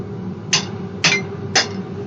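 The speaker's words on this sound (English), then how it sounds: "Use this hammer instead." A hammer taps a wooden dowel to knock a turned wooden egg out of a lathe chuck: three sharp, evenly spaced knocks about half a second apart, close and clear over a low workshop hum.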